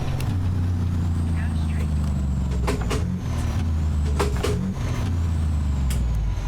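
A heavy truck engine drones low and steady in American Truck Simulator, with several sharp hissing air-brake releases breaking through near the middle, loud and continuous.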